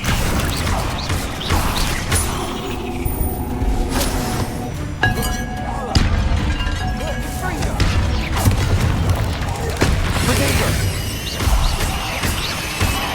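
Confringo and Bombarda spell explosions in the video game Hogwarts Legacy, heard as repeated booming blasts with clinking, crashing debris spread through the stretch, loud and close, with no talk.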